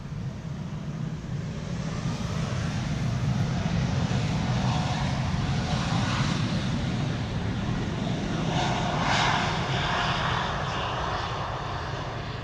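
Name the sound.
airliner rolling-start takeoff at Schiphol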